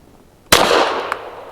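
A single sharp report from a heavy 165-grain suppressor load, Ammo Incorporated Stolth, fired through a BUL Armory Ultralight PRO pistol. The crack comes on abruptly and is followed by a long, loud decay with a faint metallic tick near the end.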